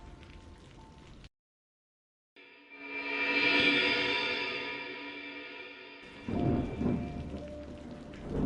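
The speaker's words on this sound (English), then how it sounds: "Whenever the night grows still and the rain patters outside" Rain pattering steadily on a still night, with a long rolling rumble of thunder that swells and fades, followed by heavier drumming rain; a short gap of silence near the start.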